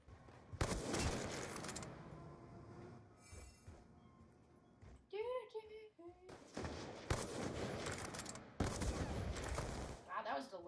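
Gunfire in the Black Ops 2 video game: bursts of automatic shots rattle out in several loud clusters, broken by brief quieter gaps with a few short tonal game effects.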